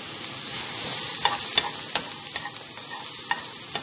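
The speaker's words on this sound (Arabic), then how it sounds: "الحركة دي بتقلبيه كده من غير اي زيت، من غير اي حاجة" Onions are stirred in a dry pan with no oil, giving a steady close frying hiss broken by repeated scraping taps of the utensil against the pan.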